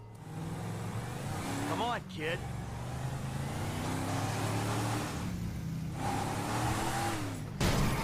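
A car in Grand Theft Auto drives toward a dealership, its engine droning and revving steadily with tire noise and a brief squeal, while someone talks over it.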